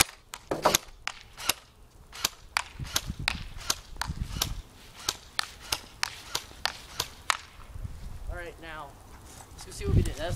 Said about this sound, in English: All right, let's fire.